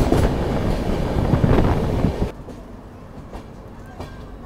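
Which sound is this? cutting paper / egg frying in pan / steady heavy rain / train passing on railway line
train passing on railway line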